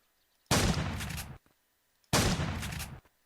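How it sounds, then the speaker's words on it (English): A placeholder shotgun in The Colony video game fires twice, each a loud, close blast with a short decaying tail, about one and a half seconds apart, over near silence. "Next, we have the shotgun. Another placeholder weapon, looking for something more ant-like."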